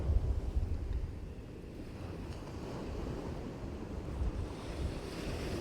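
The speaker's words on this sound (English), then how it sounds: "Proper strong crosswind now, from right to left." A strong, cold crosswind blowing on the Holderness coast at Easington on a clear night, roaring steadily against the microphone with surf rumbling beneath, continuous and close.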